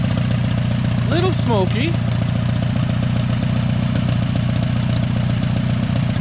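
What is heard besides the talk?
cheap old tractor engine running without muffler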